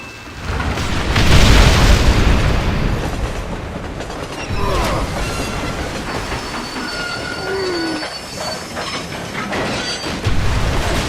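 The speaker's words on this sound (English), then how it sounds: "there's no way the train could have stopped at that short of a distance." A train in the Red Dead Redemption game grinding to a stop, a loud rumbling rush with metallic wheel squeals and clanks, close and continuous throughout.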